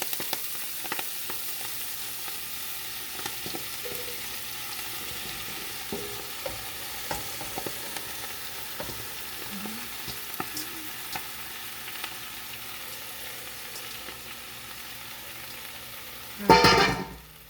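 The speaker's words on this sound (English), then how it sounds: "And next we are going to stir fry" Gai lan and Swiss chard stir-fried in a pan, a steady soft sizzle with light spatula scrapes running throughout, ending in a louder burst of clattering near the close.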